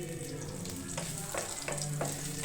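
Crushed garlic cloves frying in hot oil with mustard seeds for an ivy gourd stir-fry, a steady soft sizzle with faint crackles and a few light stirring scrapes.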